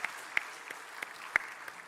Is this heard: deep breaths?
no